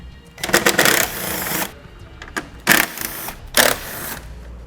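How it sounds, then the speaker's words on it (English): A socket wrench ratchets rapidly while removing 10mm bumper fasteners on a 2016 Lincoln MKX, heard as three or four close, buzzing bursts of clicking separated by short pauses. "I'm going to be using a 10mm socket to remove them."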